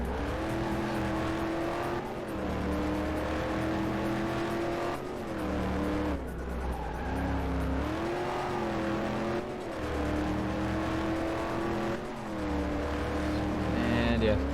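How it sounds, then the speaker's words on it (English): A Corvette race car engine in Corvette: 50th Anniversary drones loud and steady, rising and dipping through gear changes on a hot lap, while someone talks over it. "We're in a race car."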